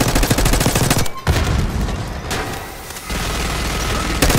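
Rapid automatic gunfire from Call of Duty combat, loud and dense, with sustained bursts broken by brief gaps and heavy booming shots mixed in.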